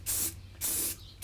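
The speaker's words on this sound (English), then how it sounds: "now spraying this" Primer is sprayed from a can onto a carved redwood cabin sign in two close, steady hissing bursts with a short pause between them.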